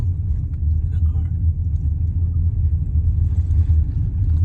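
A car engine on a slow downhill mountain drive near Echo Mountain, Colorado, gives a steady, deep rumble that holds close and even throughout, with no sharp revving.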